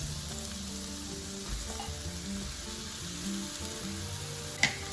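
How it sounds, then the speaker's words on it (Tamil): Sliced mushrooms frying in a pan for a white-sauce pasta, giving a steady close sizzle with a few soft stirring scrapes and one sharp clink near the end. "இந்த ஸ்டேஜில் நான் இதில் ஒரு 5 இல்லைன்னா 6 மஷ்ரூம்ஸ் சேர்க்கப்போம்"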